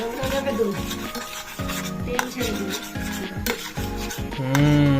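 A utensil scrapes and stirs ghee in a pan, with repeated rhythmic rasping strokes about twice a second, close and fairly loud, and a brighter sizzling swell near the end.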